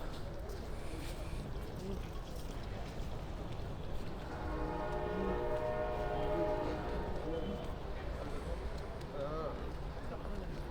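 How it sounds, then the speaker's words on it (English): A train rumbles through Qena railway station in Egypt with steady noise, and a drawn-out horn or squeal rises in the middle before the clatter continues. "Qena railway station."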